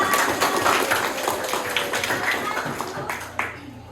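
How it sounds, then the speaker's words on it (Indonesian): A classroom of pupils claps for a classmate in a sixth-grade Islamic school lesson, loose uneven claps close by that thin out toward the end, with some voices mixed in. "Tepuk tangan untuk teman kita."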